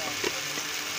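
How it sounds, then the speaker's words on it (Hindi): A spoon stirs eggplant frying in a pan while cooking baingan bharta, with soft scraping strokes over a steady low sizzle and a couple of brief clinks. "ऐसे हम इसको साथ साथ चम्मच हिलाएंगे"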